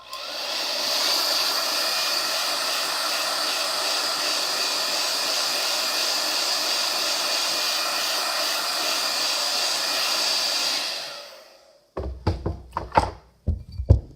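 Hair dryer blowing steadily at close range for about eleven seconds to dry ink on a craft project, then switching off, followed by a few knocks and thumps of handling.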